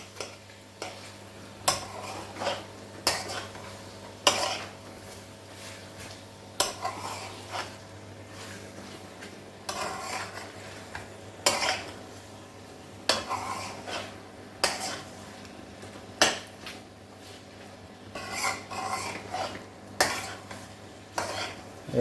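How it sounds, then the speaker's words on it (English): Spoon stirring tomato puree and spices in a cooking pan for chicken jalfrezi, repeated sharp scrapes and clinks against the pan in an uneven rhythm over a low sizzle and steady hum, no talking. "Give it a stir."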